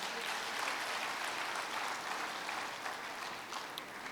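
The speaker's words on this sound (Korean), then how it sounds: "모진 세월 이겨내신 우리 일회 선배님들께 큰 박수 부탁드립니다" At an elementary school's 100th-anniversary ceremony, a hall audience applauds the first graduating class in steady, even clapping that sounds somewhat distant and soft and continues without a break.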